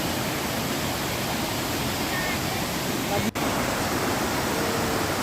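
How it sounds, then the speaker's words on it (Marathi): A powerful, continuous roar of falling water, broadband and unbroken, with a momentary dropout near the end. "किती मोठा धबधबा आहे पाणी आता पाऊस नाही तरी इतकं पाणी पडते"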